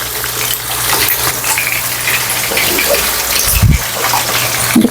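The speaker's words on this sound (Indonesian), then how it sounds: "Saya cukup menggoreng 4 biji ya" Loud, dense sizzling of chicken frying in hot oil, a constant crackling hiss with a low hum beneath and occasional bumps.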